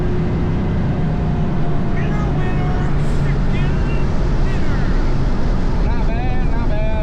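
An El Camino's engine pulls hard in fourth gear toward redline during a friends' bracket race, its rising whine smeared under heavy wind buffeting, with a faint muffled voice now and then.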